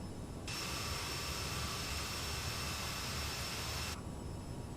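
Aerosoft CRJ900 regional jet engines on final approach with full flaps in Microsoft Flight Simulator, a steady loud roar with a high whine that swells in at power-up and holds before cutting back.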